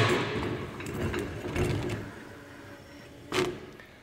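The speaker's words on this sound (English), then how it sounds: "Now I take my wing nut, rotate it on a couple spins," A wing nut spun by hand onto the shaft of a Hunter GSP-9700 wheel balancer, giving a close, rattling metallic whir in a couple of bursts, ending with a sharp clack.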